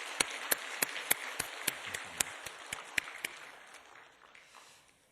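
A church congregation applauds the choir: sharp, sparse claps in a loose, steady rhythm that gradually thin out and fade toward the end.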